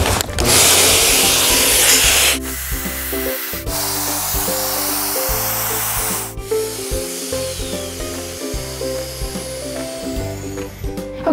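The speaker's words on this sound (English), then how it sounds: "now we can let everything dry while we go in and clean up the paint sprayer" A HomeRight Finish Max Pro paint sprayer lays a second coat on a bookcase, giving a loud close hiss for about two seconds before a steady droning hum takes over.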